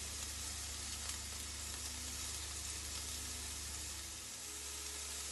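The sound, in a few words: prawns sizzling on a griddle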